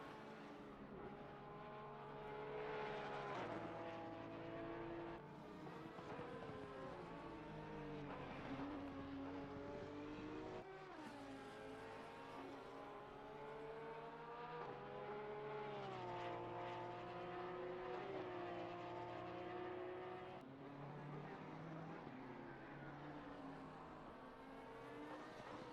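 Race car engine in Assetto Corsa Competizione at Kyalami, with sustained loud engine tone whose pitch rises and falls through gear changes and corners, steady and continuous throughout.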